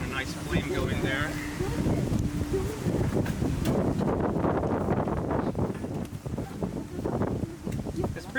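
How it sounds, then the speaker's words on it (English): Blustery beach wind buffets the microphone in a steady, rough rumble, with a person talking over it. "It's pretty windy here at the beach today,"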